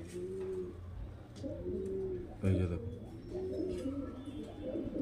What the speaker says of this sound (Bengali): এই যে দেখুন দুটোই হলুদ চোখের পায়রা